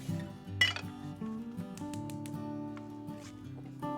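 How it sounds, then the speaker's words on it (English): A metal frying pan clanks and clinks as it is picked up and set down, with scattered knocks and light scraping over a steady low background hum. "I got this frying pan right here"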